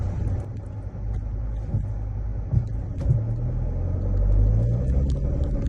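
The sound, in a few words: Tank 300 2.4 diesel engine noise inside the cabin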